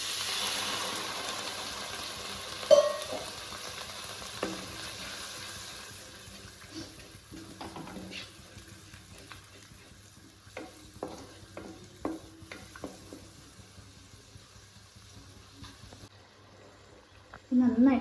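Half a glass of water bubbling over sautéed masala in a pan while homemade noodles are being made, a soft steady simmer with occasional stirring clinks and spoon scrapes, fairly close, with a voice talking briefly.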